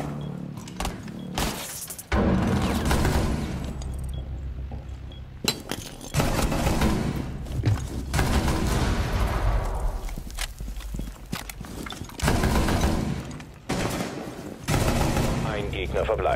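Bursts of gunfire and footsteps in the video game Rainbow Six Siege come in repeated loud volleys over about sixteen seconds, with in-game announcer voice lines heard between the shots.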